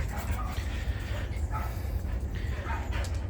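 Little and bigger dogs, including a chihuahua, a husky and a mutt, play together with scattered yips, barks and whimpers over a rumbling background.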